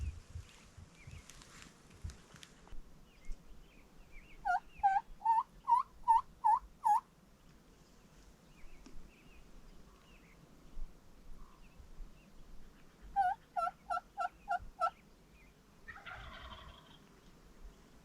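Wild Merriam's turkey gobbles come in two distinct rolling bursts of rapid, warbling notes. They sound moderately distant across open hill country, with faint rustling and quiet stretches in between.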